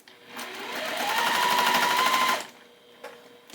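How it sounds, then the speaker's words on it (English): A sewing machine stitches the corner of a small fabric pincushion, running in one steady whirring burst of about two seconds with a rising hum, then stopping, followed by faint handling clicks. "now we're ready to sew this top right hand corner one"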